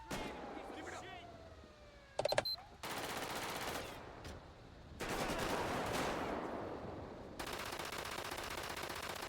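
Bursts of automatic gunfire in GTA V with the LSPDFR police mod during a night warrant raid, loud rapid volleys alternating with sharper single shots and brief lulls, with sirens and voices mixed in.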